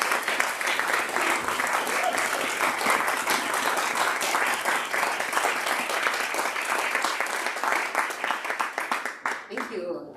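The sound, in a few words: congregation applauding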